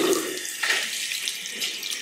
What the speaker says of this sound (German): Und dann kann man den einfach ganz einfach unter fließendem Wasser ausspülen